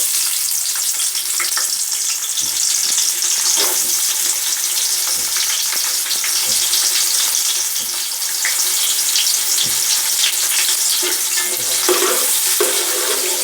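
Onions frying in hot ghee in a pot, a loud, dense crackling sizzle with periodic stirring scrapes and clatters spread across the whole stretch, no speech.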